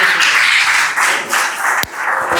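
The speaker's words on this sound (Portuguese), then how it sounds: "Palmas para o louvor do Senhor da glória" Congregation clapping during a Portuguese-language church service for families, a loud dense patter of many hands with slight swells and a sharp single clap near the end.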